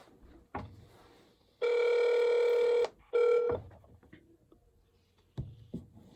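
A telephone rings out on a prank call, two loud ring bursts separated by a short gap, surrounded by faint handling clicks and quiet room noise.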